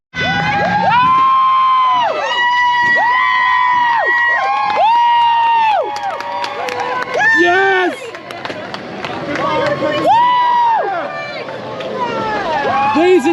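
A large crowd cheers and shouts loudly on opening day of the Iron Gwazi roller coaster, with sustained whoops and yells rising and falling in long waves close by.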